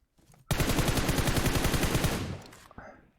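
A rapid burst of automatic gunfire in the mobile battle-royale game PUBG Mobile, loud and close, rattling for about two seconds before cutting off.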